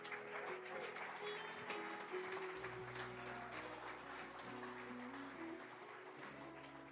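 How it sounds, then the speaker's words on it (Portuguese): A church congregation claps together in a steady, moderate wash of applause, heard fairly faintly under sustained keyboard or organ music. "dá uma salva de palmas para Ele"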